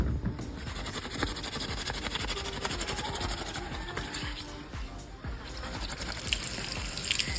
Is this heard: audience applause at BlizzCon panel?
no